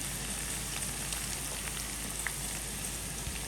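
Green onions frying in a pan with ginger paste, a steady, even sizzle with faint crackles, no talking.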